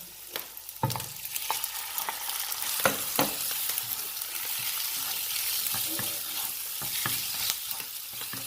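Calf liver with garlic stir-fried in a pan crackles with a loud, continuous sizzle, punctuated by sharp scrapes and clacks of stirring.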